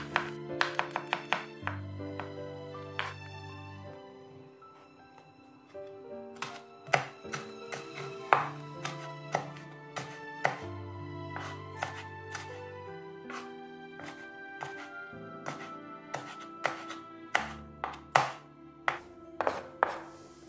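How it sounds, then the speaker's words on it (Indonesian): A knife slices shallots and garlic thinly on a cutting board, sharp close taps in quick irregular runs with short pauses between batches. "Ini saya iris dulu untuk bumbunya, bawang merah, bawang putih ya, diiris tipis-tipis aja ya teman-teman."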